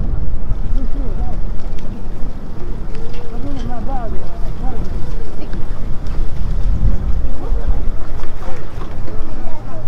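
A boat ride at a mall waterfront during national day celebrations in Bahrain, with constant wind buffeting the microphone and the steady rumble of the boat on the water, while voices chatter nearby.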